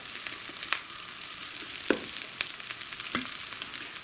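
Fried rice sizzles steadily in a hot pan, a close continuous hiss broken by a few sharp scrapes and knocks of the spatula as it is stirred, with no voices.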